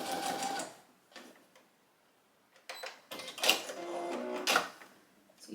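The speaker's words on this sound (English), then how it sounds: "You're just gonna do a long stitch, and we're just gonna try to baste it just at the very tip of it." A sewing machine runs a long basting stitch along ribbons on a baby lovey blanket, with short stop-start bursts of quiet clattering separated by a near-silent pause.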